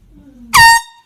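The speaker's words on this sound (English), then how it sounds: "let's start with one of the classics and a favourite among many of you, the air horn pranks" A single short, loud air horn blast cuts in abruptly and stops after a fraction of a second, preceded by quiet background noise.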